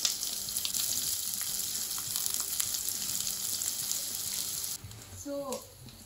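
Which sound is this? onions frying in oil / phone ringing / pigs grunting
onions frying in oil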